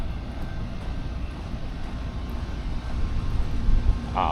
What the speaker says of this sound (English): Oh man, I hear the train.